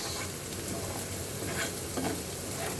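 Onion fries in oil for a Bengali dal, giving a faint, continuous sizzle and crackle with gentle stirring throughout.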